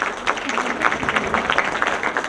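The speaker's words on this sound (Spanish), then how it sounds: "El aplauso para ustedes más fuerte," Applause from the audience at the close of a panel session on personal data protection in Latin America, a dense run of close clapping with some crowd murmur mixed in.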